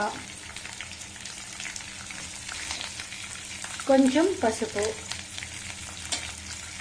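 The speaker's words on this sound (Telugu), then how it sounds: "అన్నీ వేసి తాలింపు బాగా వేగనివ్వండి" Tempering for raw mango pulihora, with black gram lentils, mustard seeds, curry leaves, green chillies, asafoetida and peanuts, sizzles in hot oil, a moderate steady crackle with a burst of stirring clatter midway, while a voice speaks briefly.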